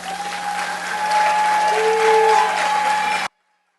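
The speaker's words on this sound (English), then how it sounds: "Please give all early childhood education teachers a round of applause." Sustained round of applause for early childhood education teachers at a School of Education pinning ceremony, a broad steady wash of clapping from a hall audience that swells slightly midway and stops abruptly.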